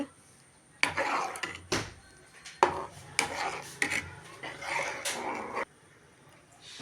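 Ground masala is stirred into paneer gravy in a pan, heard as intermittent scraping and rubbing strokes in irregular bursts, close and moderately loud, with quiet gaps between.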